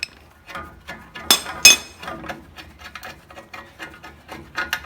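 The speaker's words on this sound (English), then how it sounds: "we should be able to finish taking off these 2 bolts here and get this wheel cylinder off" Metal tools clink and scrape while bolts come off the wheel cylinder of a 1962 VW Type 2 bus during a brake job, with irregular close taps, ratcheting ticks and two sharp metallic clanks early on.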